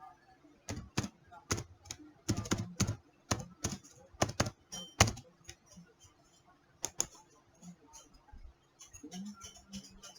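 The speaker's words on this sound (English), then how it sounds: "password ဝင်လိုက်မယ်" A computer keyboard is tapped in quick irregular bursts of sharp, close clicks while a password is typed, pausing briefly between runs of keystrokes.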